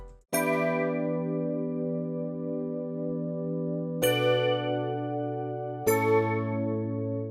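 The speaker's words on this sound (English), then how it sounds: "So what we'll be affecting is this melody I made in Omnisphere." A sustained Omnisphere synth melody with bright attacks, three long notes ringing with rich harmonics and a shimmering, effected tail, no voices.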